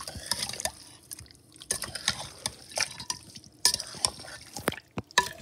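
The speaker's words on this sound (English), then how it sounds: "Now I'm gonna stir it up and show you." Seasoning being stirred into chicken for a Jamaican brown stew, with soft wet squelches and clicks of a utensil against the bowl in an irregular rhythm, close up and fairly quiet.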